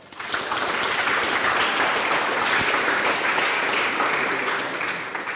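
A room of attendees at a consultation event claps together in sustained, dense applause that swells quickly and holds steady at full volume throughout.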